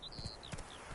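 Hooves of the horse Roach clip-clop in a video game, several quick, evenly paced steps at moderate distance under a faint high ambient tone, with no talk.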